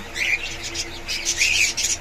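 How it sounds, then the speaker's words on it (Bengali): Australian doves in a shop give short chirping calls, a few close bird notes over a light background hum with no voices. "এই যে অস্ট্রেলিয়ান ঘুঘু আছে একগুলা দেখতে পাচ্ছেন"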